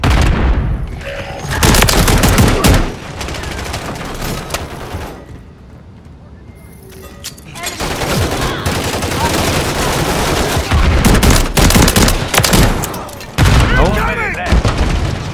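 Heavy gunfire in a Call of Duty MW3 multiplayer War match, loud dense bursts near the mic with a brief lull midway, mixed with explosions and game noise.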